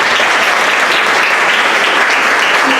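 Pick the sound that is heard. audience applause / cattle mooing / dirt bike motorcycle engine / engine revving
audience applause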